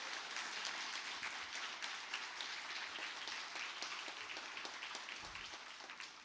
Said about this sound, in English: Let's give Jake a round of applause.